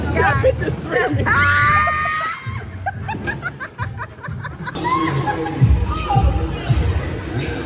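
A person screams at a bowling alley amid laughter, chatter and shouting, with a high shrill cry near the start and lively crowd noise throughout.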